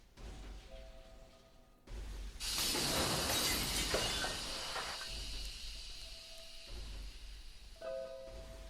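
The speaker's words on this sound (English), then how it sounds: "a jet of superheated steam that hissed against the walls, smashed all the windows it touched" Glass windows smash and shatter in a sudden crashing burst, followed by a jet of superheated steam hissing steadily against walls, dense and close before easing into a lower, fading hiss.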